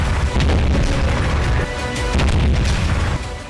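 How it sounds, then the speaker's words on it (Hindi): Heavy booms from missile and rocket strikes in the Nagorno-Karabakh war, loud and continuous, several deep blasts rolling into one another across the clip with no talk. "मिसाइलों से 2 तरफा प्रहार, नागोर्नो कराबाख में नरसंहार, रॉकेट अटैक अनलिमिटेड"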